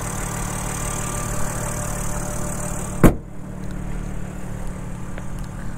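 A 2024 BMW M4 xDrive Competition idles steadily, a smooth constant engine hum with a single sharp click or knock partway through, no talking.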